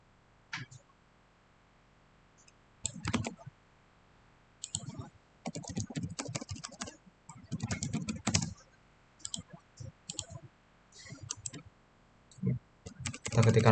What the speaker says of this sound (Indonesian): Kita ketikkan manual saja.